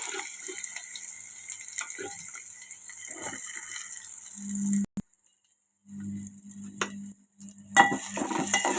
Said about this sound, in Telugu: ఆయిల్ కాగింది కదా తాలిం గింజలు వేసుకున్నాను ఆనియన్స్ వేసుకుంటున్నాను